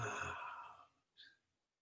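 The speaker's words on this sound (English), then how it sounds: "Make the exhale long and slow, and be sure you go all the way to empty." A single long, slow breath out during qigong practice, soft and close, fading to silence before a brief quieter airy puff at the end.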